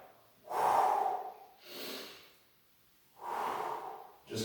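Slow, deep breaths in and out during a runner's stretch, three long airy breaths in a quiet room, close and alone.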